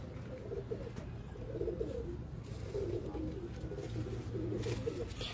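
Highflyer pigeons coo in low, rolling phrases, with several bursts repeating steadily over a continuous murmur of background birds at moderate loudness.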